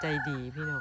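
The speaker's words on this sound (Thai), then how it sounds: "ฟังเสียงไก่ขันเนาะ" A rooster crows in a long, drawn-out cock-a-doodle-doo, loud and close, at a rural rice-field lodging near Phu Pha Man in Loei province, Thailand, with a voice speaking briefly alongside it.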